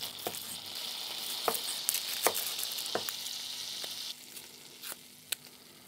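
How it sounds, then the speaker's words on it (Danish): A large shallot fries in melted butter in a pan, a steady close sizzle with occasional light clicks and pops, no talking. "Det skal stege, det er et godt stort skalotteløg."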